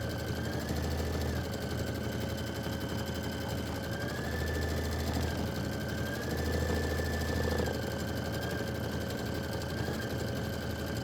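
Sewing machine stitching a quilt-block design in a long, steady mechanical whir that hums continuously at low volume with slight changes in pitch, no voices.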